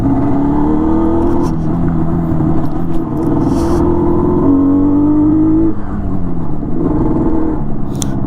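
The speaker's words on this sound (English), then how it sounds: "I really want you guys to hear this bike" A Yamaha RD 350 motorcycle engine revs and rumbles nearby, its pitch rising and falling with the throttle over a constant, loud drone.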